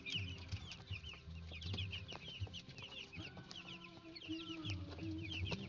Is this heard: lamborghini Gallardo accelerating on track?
no